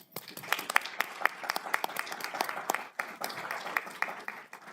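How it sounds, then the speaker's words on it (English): Applause from the audience at a county commissioners' board meeting, a moderate round of many hands with sharp individual claps standing out, continuing steadily for several seconds. "One more round of applause for them."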